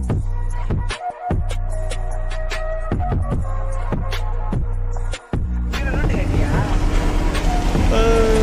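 A Kerala houseboat motors along the Alleppey backwaters, a steady engine drone up close with brief breaks, turning to wind and water rush toward the end, under light background voices.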